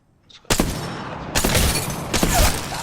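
Video game gunfire erupts after a brief quiet moment, with loud, close bursts of shots at about half a second, again near one and a half seconds and around two seconds, and rattling echoes between them.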